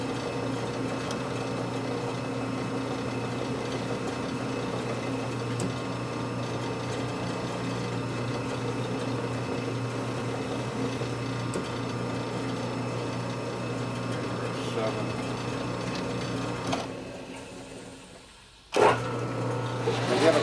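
A lathe runs steadily while cutting a thread on a Harley panhead motor part, a continuous mechanical whir with humming tones that holds for most of the clip, then drops away briefly before a sharp clunk and restart near the end.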